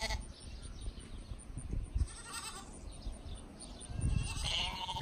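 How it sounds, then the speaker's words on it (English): Sheep bleat a few times at moderate distance on a dairy farm over steady outdoor rumble and wind noise, the calls rising briefly above the background. "these sheep like to talk to us"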